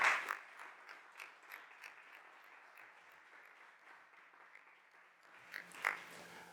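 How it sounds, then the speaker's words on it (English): Light, fairly distant applause from a conference audience after an academic panel on public management and governance, with scattered claps rising and falling in a soft, steady patter. "give this panel a round of applause"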